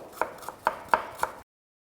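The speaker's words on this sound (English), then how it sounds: "Just a little bit of red onion, very thinly sliced." A red onion thinly sliced with a knife on a board, five crisp evenly spaced chops close by, then silence, with no voices.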